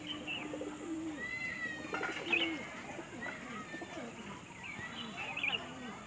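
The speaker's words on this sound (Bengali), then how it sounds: "এটা হচ্ছে মাদি পায়রাটা" A female pigeon among a loft of white pigeons coos in soft repeated low notes, with other birds chirping faintly around and a person talking nearby.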